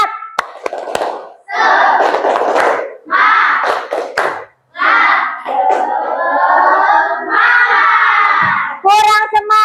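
Children do the 'tepuk semangat' clapping chant during a live class, with rhythmic hand claps and shouted group chanting in several loud bursts, separated by short pauses.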